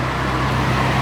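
Ferrari driving through the Daikoku car meet in Japan, a steady, close engine hum with a low tone over general traffic noise.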